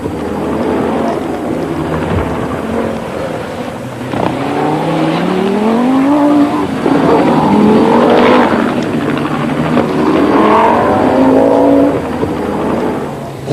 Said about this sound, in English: This is the second Audi Quattro, driven by Michel Mouton, lying in 5th place and having a brilliant drive.